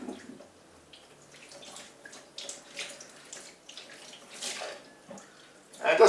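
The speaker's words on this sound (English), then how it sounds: "And you just sponge them like this." A sponge scrubs dirt off potatoes under running water in soft, irregular wet swishes and splashes, fairly faint and close.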